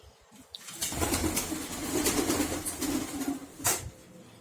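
Pigeons in a loft give a low continuous cooing with a few soft wingbeat flutters, including one sharper flap near the end, all fairly close and without talk.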